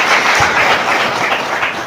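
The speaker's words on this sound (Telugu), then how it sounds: "గట్టిగా చప్పట్లు కొడదాం" A church congregation claps loudly during a Telugu Christian sermon, with a dense, continuous roar of many hands that fills the space and tapers slightly at the end.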